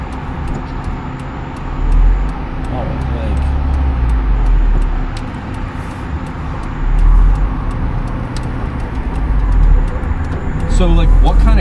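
Car engine with a manual transmission pulling away in first gear and turning right. The steady engine drone and road noise sit up close, with low revs rising and falling under occasional speech.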